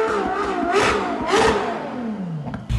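Ferrari SF90 hybrid supercar engine revving in sharp repeated bursts, each rising and falling quickly, close and loud with no talk.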